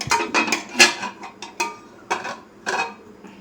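A metal lid clanks and rattles several times as it is set over a pot of cooking lamb ribs, with sharp, close knocks and scrapes spaced out over a few seconds.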